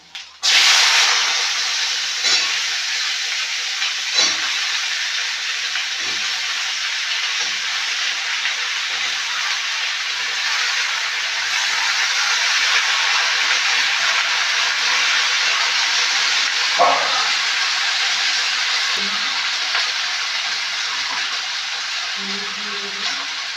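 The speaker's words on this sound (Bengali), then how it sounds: "এখন আমি সবজিগুলো দিয়ে দেবো" Mixed vegetables hitting a hot pan of oil with ginger and spices make a continuous, close sizzling hiss with scattered light knocks from stirring. A faint voice comes in near the end.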